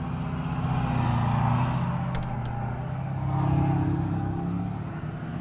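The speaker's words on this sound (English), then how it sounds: "That dude's truck was just a little bit loud there." A loud truck engine revs nearby, its low throbbing growl swelling and easing twice over a few seconds, with no talking.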